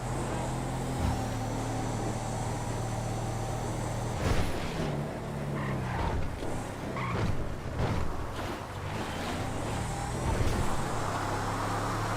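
A car cruising along a highway in GTA 5, its steady engine drone running throughout with a low hum and faint road noise, a few brief bumps and swells midway.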